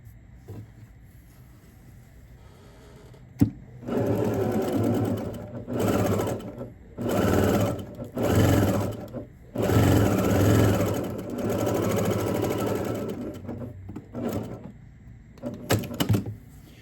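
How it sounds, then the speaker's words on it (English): A sewing machine stitches quilt block pieces in several separate runs of steady whirring, close and clear, with short pauses and a sharp click between them. "So I'll line these up and begin to stitch all the way down the edge."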